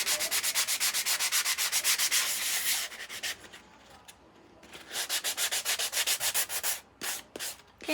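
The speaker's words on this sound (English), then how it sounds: "then I always just give the edges a quick sand as well" A vinyl-covered chalkboard eraser is hand-sanded in quick, even back-and-forth strokes, a rapid rasping rhythm that pauses midway, then resumes in shorter bursts near the end, close and clear with no talking.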